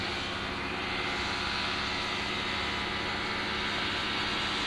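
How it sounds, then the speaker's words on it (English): Kitfox light airplane on skis flying a circuit over snow, its engine giving a steady, fairly loud droning hum that holds unbroken throughout. "Looks like Jerry's gonna do a circuit."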